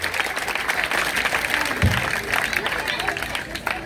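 Congregation at a church service applauding, a sustained wash of many hands clapping close and loud, with voices mixed in underneath.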